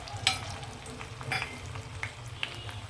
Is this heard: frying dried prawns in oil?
yes